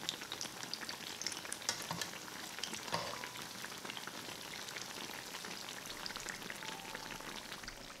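Trinidad-style eggplant fritters (baiganee) fry in hot oil in a pan over medium-low heat, a soft, steady crackling sizzle with scattered pops that continues evenly throughout.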